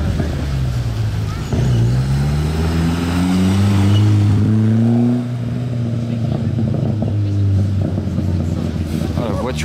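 A Ferrari Enzo supercar drives over Parisian cobblestones in a two-car convoy, a deep loud engine note rising and shifting in pitch as it passes close by, with a spectator talking excitedly over it.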